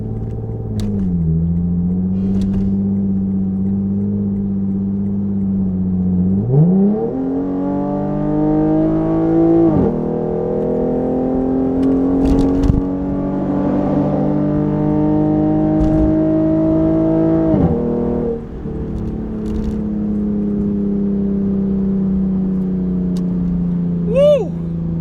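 A car fitted with an RR-Racing tune is revved at full throttle, its engine note climbing in steady rising sweeps, holding high, then dropping back to a loud, close, continuous drone.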